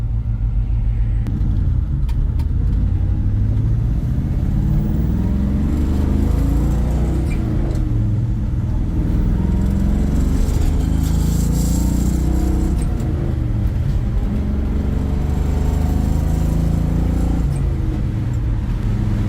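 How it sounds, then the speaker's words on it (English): A 1957 Chevrolet Bel Air on the road with a low engine rumble rising and falling through gear changes, plus a faint rattling buzz from its loose, vibrating shifter, heard from inside the car. "Now this shifter does shake around, so that's where you're going to hear that vibration."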